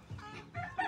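A chicken clucks softly a few times in a short, close burst, quiet and slightly muffled, with no talking over it.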